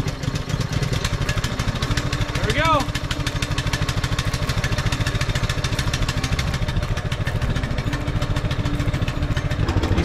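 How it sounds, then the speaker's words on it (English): A Massimo MB200 mini-bike engine runs steadily and loudly at close range, a continuous buzzing drone with rapid pulsing that holds for the whole stretch, with a brief rising whistle-like sweep near the start. "you have to press it in order for the engine to start"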